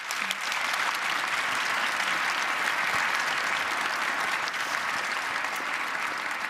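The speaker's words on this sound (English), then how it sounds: "please give my panel a very warm round of applause" A studio audience at a televised panel discussion on the Ukraine crisis claps steadily, a dense, sustained round of applause filling the room at even loudness throughout, with no speech over it.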